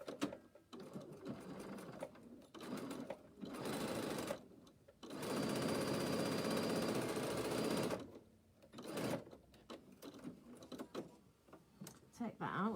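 A sewing machine stitches fabric on a work desk, running in a few bursts, the longest lasting several seconds, with a rapid mechanical whir between quieter pauses and handling noises.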